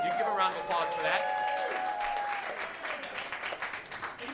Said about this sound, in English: The National Mistletoe, you give a round of applause for that.